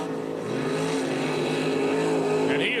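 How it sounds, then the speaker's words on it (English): A mud racing truck's engine roars at full throttle on a mud track, a loud, steady, close drone that holds without pause. "Berry hits the throttle on time, and it looks like maybe he just lit the tires right up"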